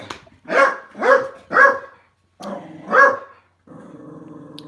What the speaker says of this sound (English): It's the same wee dogs.